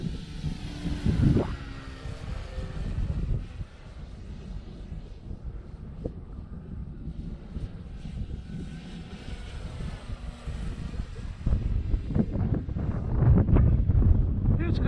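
Strong wind buffets the microphone at an RC flying field, a steady low roar that swells toward the end, while a model airplane engine drones faintly in the distance.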